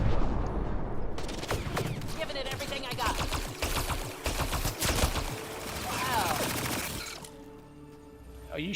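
Rapid bursts of gunfire from a sci-fi shooter, Mass Effect Andromeda, crackle densely and loudly for about seven seconds, with overlapping shots and impacts before cutting off to quieter ambience.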